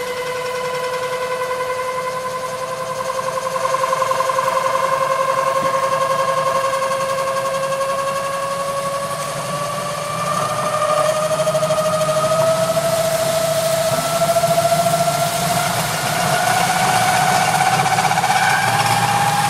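An engine on a test setup revs steadily higher as the throttle is wound up, a sustained droning tone climbing slowly in pitch and loudness with rattling vibration under it.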